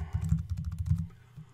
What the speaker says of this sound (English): I'm going to go up here and type in